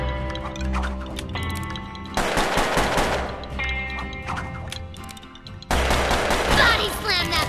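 A twin-revolver gunslinger trades shots in the Puppeteer video game, with bursts of gunfire and sharp cracks over music and game effects, the action growing louder in two distinct surges.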